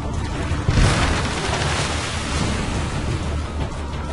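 A deep booming blast from a ship's cannon firing incendiary shot in Assassin's Creed Brotherhood rolls out, followed by a sustained roaring rumble like fire and crashing surf.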